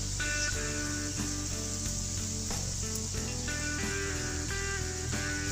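Mashed boiled jackfruit seeds going into a pan with aubergine for a homemade bharta, a loud continuous sizzle with faint stirring taps underneath, no voices.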